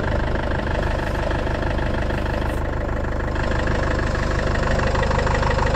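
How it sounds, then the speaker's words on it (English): A portable compressor drones steadily and loudly at close range while inflating a Land Rover Freelander 2 tyre, a continuous buzzing mechanical hum with no pauses. "Instead, stick a compressor on it."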